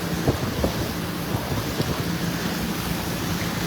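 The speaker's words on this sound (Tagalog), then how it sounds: "Sobrang lakas po ng ulan dito ngayon." Heavy rain roars steadily as a dense broadband wash, with occasional low thumps and a faint hum beneath, no voices, during severe flooding in Masantol, Pampanga.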